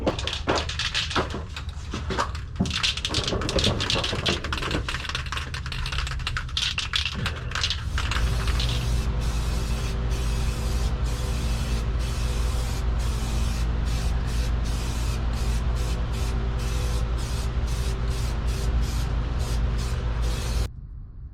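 Eastwood Underhood Matte Black spray paint hisses onto the underside of a Vanagon van, with rapid bursts of short sprays at first, then a long steady close hiss that cuts off near the end.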